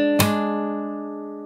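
A single fingerstyle acoustic guitar chord plucked for a song, struck with a sharp attack and then ringing out and slowly fading, close and clear with no talking.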